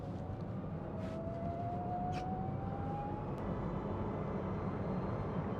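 A Webasto Airtop 2000 diesel heater fitted in a Citroen Ami starts up with a steady low whir and hum, while a faint tone slowly rises over a few seconds and a couple of soft clicks sound close by.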